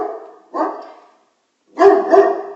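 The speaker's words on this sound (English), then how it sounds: "that's Maverick barking in the background" A dog barks twice, loud and close, with a short pause between the barks and no talking.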